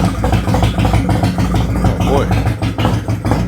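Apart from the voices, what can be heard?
Harley Road Glide motorcycle engine starting and running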